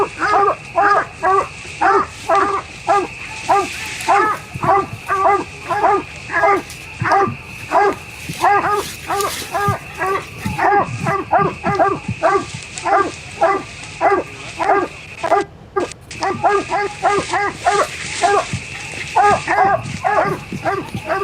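Coonhounds bay and bark steadily at a treed animal during a night hunt at the UKC Coonhound World Championship, with repeated rhythmic barks from several dogs at moderate distance and brief background voices.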